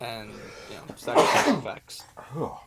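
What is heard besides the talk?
sneeze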